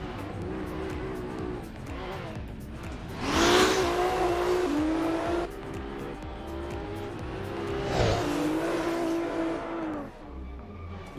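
A Nissan and a Toyota Supra battle in a pro-am drift competition, engines roaring and revving continuously as two surging passes of screeching tires swell and fade, loud and sustained.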